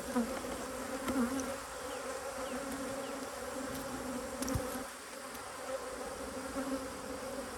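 Bees drone in a steady, dense hum around an opened beehive during a deep box change at an apiary, with a few louder buzzes passing close by and no talking.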